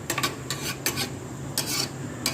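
A spoon scrapes and stirs sweet zarda rice around the sides of a cooking pot in a series of close, rasping strokes that come in irregular bursts, with no talking.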